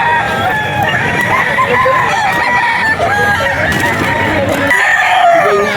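A gamefowl rooster of the Tornado line crows loudly and close at a busy pet market, set against a steady din of other crowing fowl and distant clucking.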